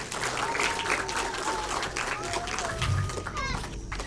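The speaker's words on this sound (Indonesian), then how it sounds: "Tepuk tangan dulu untuk Share Edu Indonesia." An audience at a Share Edu Indonesia anniversary event claps steadily throughout, with children's voices and chatter mixed into the applause.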